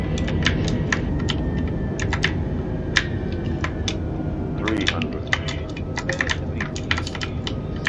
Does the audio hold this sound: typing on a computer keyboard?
yes